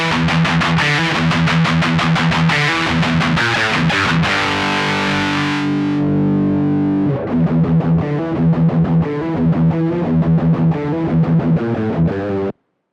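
Distorted electric guitar through a NUX Mighty-Lite-BT combo amp, loud and continuous, with strummed chords and single notes, a sustained ringing passage in the middle as the tone knob is turned, then choppy chords resuming before an abrupt stop.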